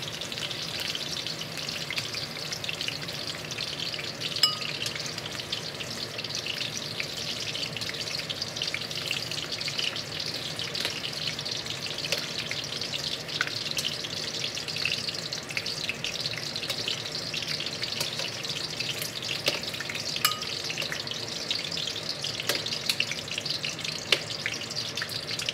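Half-cooked onion for pork steak fries in a pan, a steady close crackling sizzle that runs unbroken, with occasional faint pops and clicks of spatters.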